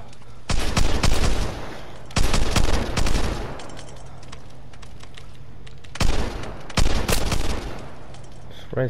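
Shotgun-heavy gunfire in the multiplayer shooter Vigor, with loud bursts of rapid shots in several clusters and quieter gaps between them, with a voice talking now and then.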